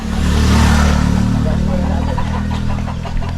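Engine of a motorcycle running close by at a steady mid-pitched idle with slight revving, heard under people talking in a rural home setting.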